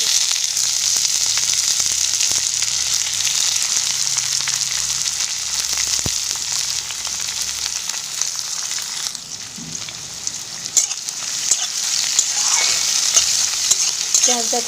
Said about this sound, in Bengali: পেঁয়াজটা খুব ভালোভাবে ভেজে নেব।